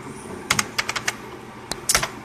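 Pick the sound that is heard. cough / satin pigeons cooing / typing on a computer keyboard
typing on a computer keyboard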